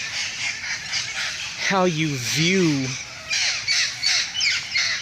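Parrots give a pair of loud, harsh, rising-and-falling squawks close by, set against a busy background of chirping birds, with a person talking over the scene.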